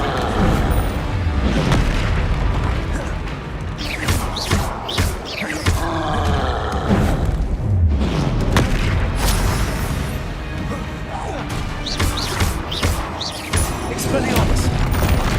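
Confringo explosive spell blasts in Hogwarts Legacy, repeated booming bursts and crackling impacts scattered through loud combat noise, with voices speaking over the fight.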